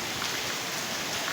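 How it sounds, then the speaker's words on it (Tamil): Heavy rain pours steadily over Chennai, a dense, continuous hiss of drops hitting surfaces with no breaks and no voices. "இந்த மழை நல்லா பெய்யுது."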